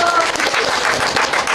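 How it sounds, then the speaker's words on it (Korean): Studio audience applauding a guest on a Korean talk broadcast, a brief dense burst of clapping held at full level from start to end. "김일석 대표님께 박수."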